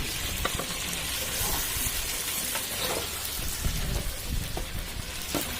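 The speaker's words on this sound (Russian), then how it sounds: "Картофель будем жарить до золотистой корочки." Potatoes fry in vegetable oil in a kazan cooking outdoors, giving a dense, continuous crackling sizzle that holds steady without pause.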